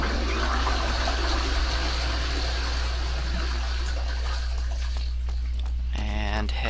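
Water draining away in the video game Blood Omen 2, a steady broadband rushing and gurgling that carries on throughout, with a low hum beneath and a brief game tone near the end.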